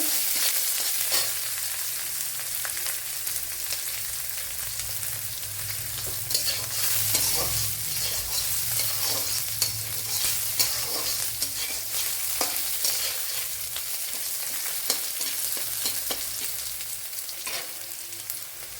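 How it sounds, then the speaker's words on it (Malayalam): Chopped onion frying and being stirred in a pan, a continuous bright sizzle broken by repeated scraping spoon strokes, close up, with no talking. "ഇതിലേക്ക് ഇനി ഒരു ചെറിയൊരു സവാള കട്ട് ചെയ്ത് ഇട്ട് കൊടുക്കുക."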